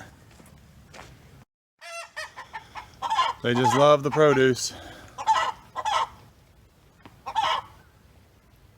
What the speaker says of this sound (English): She's still squawking at me for taking those eggs.